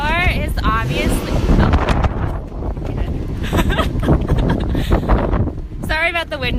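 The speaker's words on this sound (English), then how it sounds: "Sorry about the wind noise," Gusty wind buffets the microphone in low rumbling bursts while people talk over it during a Lexus LC500 test drive.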